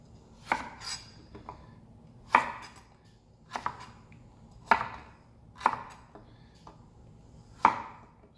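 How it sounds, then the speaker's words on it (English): Fresh ginger is sliced with a knife on a cutting board, about six crisp chopping knocks spaced roughly a second apart with softer cuts between, close and clear with no talk. "I'm going to go ahead and cut up the ginger"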